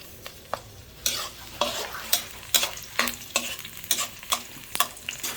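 Pampanga garlic fries in oil for Kapampangan-style mongo beans, a quiet sizzle punctuated by a string of sharp, rhythmic stirring scrapes.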